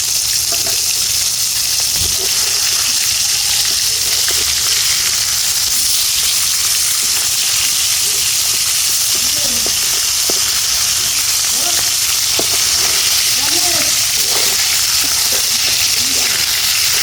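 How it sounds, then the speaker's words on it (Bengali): Flipped pangas fish pieces frying in hot oil over a clay stove give off a continuous loud sizzle, with occasional bubbling pops and light utensil scrapes scattered through the steady crackle. "এখন আমরা সুন্দরভাবে মাছটা উল্টে নেব।"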